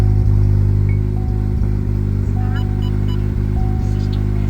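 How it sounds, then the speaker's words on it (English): A modified turbocharged 2.7-litre Chevy Silverado idles with a steady, loud engine rumble and a thin high turbo whistle riding on top, recurring several times as the idle runs on. "You can hear the turbo whistle."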